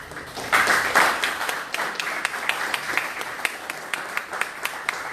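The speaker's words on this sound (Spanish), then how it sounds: "los recibimos con fuertes aplausos" Applause from an audience at a book presentation, a crowd clapping that starts loud and then thins out, leaving a few distinct individual claps standing out near the end.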